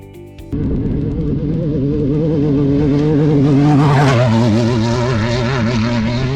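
An off-road race car being tested in the desert, driven hard in fourth gear: a loud, sustained engine roar that holds after a sharp start, rising and wavering in pitch as the wheel is worked, with no talk.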